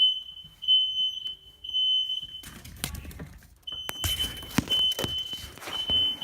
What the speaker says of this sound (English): Great, so now I set off the smoke detector to keep going.